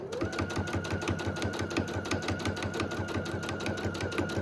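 Sewing machine running steadily and close, stitching in the ditch along white piping to attach the binding on a red, white and blue quilt, with a fast even needle rhythm throughout and no talk.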